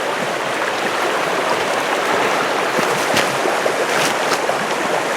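A river at a riverside campsite rushes steadily with dense, even broadband noise. The flow stays loud and close throughout, with no talking.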